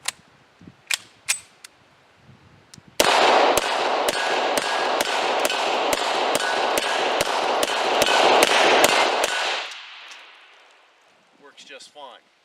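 A Beretta M9 pistol frame fitted with an M9A3 slide and a GI-issue magazine fires a rapid string of about fifteen sharp, evenly spaced shots over a loud hissing background, preceded by a few handling clicks.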